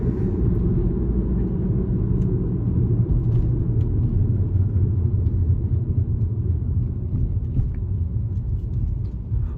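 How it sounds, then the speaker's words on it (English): A 2007 Volkswagen Jetta pulling away from a traffic light in sport mode, heard from inside as a steady low engine and road rumble, with no talking. "When we take off from this light here, I will shift it down into sport mode."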